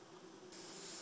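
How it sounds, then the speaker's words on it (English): An airbrush sprays paint onto a Bolt Action Hetzer tank model, a faint steady hiss that suddenly grows brighter and louder halfway through as the spray opens up, with no talking. "I'm just being quite generous in the areas I spray."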